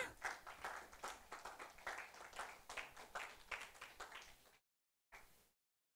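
Audience applause for a guest speaker at a Banten regional law office event, a steady burst of many hands clapping for about four seconds, then a brief short tail of clapping before silence.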